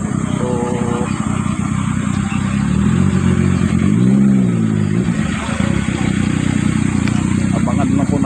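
Motorcycles from an advance party on a Luzon tour rev and pass in a steady, loud engine drone with a rising and falling pass partway through, close by under faint background chatter.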